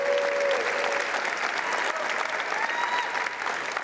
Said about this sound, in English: please give a round of applause to all of our fall sports